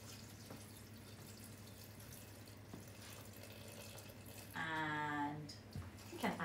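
Water poured from a container into a Thermomix bowl while making a soup with peas, a short splashing burst of liquid near the close, heard over a steady low kitchen hum.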